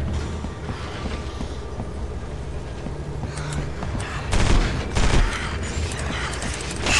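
A shooting video game rattles with gunfire: sharp shots and a clattering burst near the middle and end, over a low mechanical game ambience, moderately loud.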